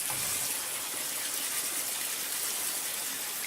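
Water straining out of freshly rinsed kidney beans in a kitchen, a steady broadband gush and trickle running continuously, close and moderately loud with no talk.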